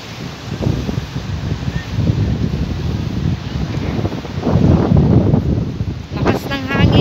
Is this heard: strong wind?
yes